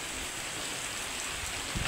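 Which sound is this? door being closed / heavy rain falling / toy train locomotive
heavy rain falling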